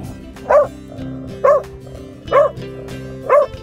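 A hunting dog holding a pig at bay in New Zealand bush gives four deep barks spaced about a second apart, loud and close over a low steady background drone.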